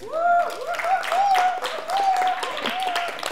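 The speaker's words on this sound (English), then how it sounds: "I'm gonna need a clap on that." Audience clapping during a keynote on public interest technology rises around a voice that keeps talking over it, the scattered claps sitting under the speech and fairly close.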